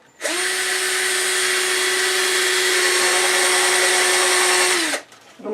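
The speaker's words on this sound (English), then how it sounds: "I'm just going to attach this with a drywall screw. I have a countersink with a pilot bit in it" Power drill fitted with a countersink pilot bit driving a drywall screw into a board for a table saw extension: one loud, steady whine lasting about five seconds that starts and stops abruptly.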